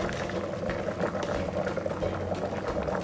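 Vegetables boiling in the lower pot of a steamer as couscous steams above them for Moroccan couscous with meat; a steady, close bubbling and simmering wash runs without a break.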